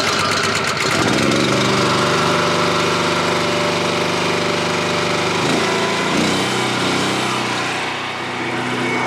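A firewood splitter's small engine, already warmed up with a little choke applied, runs loud and steady close by, holding a continuous buzzing drone with a slight dip in pitch near the end.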